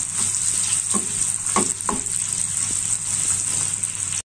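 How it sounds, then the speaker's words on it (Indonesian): Shallots sauté in a pan with a constant bright sizzle, while a utensil stirs them in a few distinct scraping strokes close by, with no talking. "Kemudian kita tumis bawang merah."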